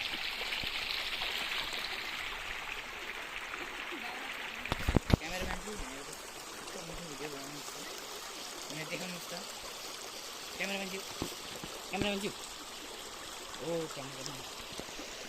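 A stream flows in an outdoor wilderness setting, its rushing, trickling water steady and fairly close, louder at the start, with a few clattering bumps and a person's voice talking intermittently over it.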